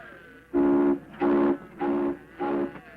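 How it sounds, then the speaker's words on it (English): A steam locomotive whistle in a 1929 Western setting gives four sustained blasts in an even rhythm, loud and close, with no talking. "You blow that whistle again, and I'll blow you right out of that cab."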